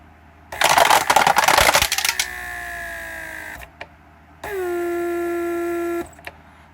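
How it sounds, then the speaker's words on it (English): A Mercedes S-Class door lock vacuum pump runs on a bench after repair, giving a rattling clatter that settles into a steady electric whine, stops, then restarts as a lower, even motor hum. "So it went through the cycle to create pressure in the pressure storage tank."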